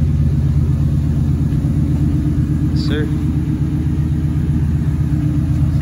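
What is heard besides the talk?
car idling with aftermarket mufflers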